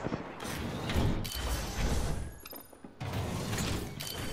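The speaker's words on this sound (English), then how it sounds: "open the door again, open the door again" Door opening in the Apex Legends video game, a broad mechanical creaking and grinding with a ratchet-like rattle that comes in repeated loud bursts over steady game noise.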